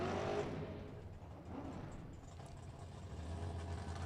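A Chevrolet Camaro drag car's engine rumbles and revs at a Las Vegas drag race, a loud burst at the start easing into a steady, throaty drone with no speech.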